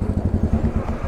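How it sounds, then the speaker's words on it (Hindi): A loud Kawasaki Z900 motorcycle engine rumbles close by with a choppy, pulsing low-end beat, steady and heavy throughout. "एक तो इतनी लाउड बाइक, इतनी खतरनाक लाउड बाइक."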